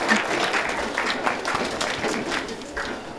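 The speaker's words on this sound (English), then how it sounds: "Can we have a huge round of applause for them?" Audience applause at a university session honoring guests, a steady patter of clapping from a mid-sized crowd with faint voices mixed in.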